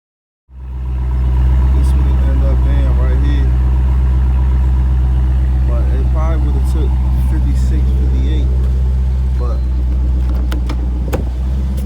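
A Dodge Challenger Scat Pack starts and settles into a loud, deep, steady idle close by, its rumble filling the whole stretch while a person talks over it.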